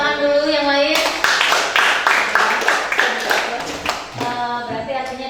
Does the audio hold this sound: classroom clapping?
yes